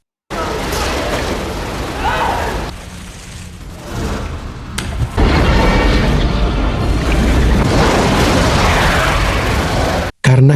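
Film explosion inside an underwater facility: a loud, continuous roaring blast and rumble fills the clip, dipping briefly midway before surging again, dense and close, then cutting off abruptly near the end.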